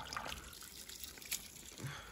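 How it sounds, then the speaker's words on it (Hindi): Water poured onto okra, pumpkin and ridge gourd plants in a vegetable garden, a faint soft trickle and splash against a quiet outdoor background. "तो अभी ना ये जो भिंडी कद्दू तूरी थी तो इन्हीं को पानी दे रहे हैं।"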